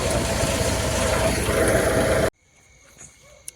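Tractor engine idling close by, a loud steady chugging drone that cuts off abruptly, leaving faint quiet background with a few small knocks.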